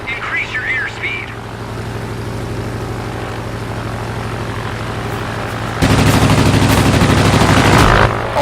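A propeller warplane in the World of Warplanes video game drones steadily as it stalls, then bursts of rapid machine-gun fire rattle loudly near the end, with someone talking over the engine noise.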